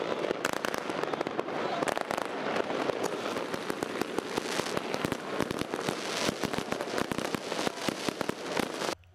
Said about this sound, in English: there's still some fireworks somewhere right there.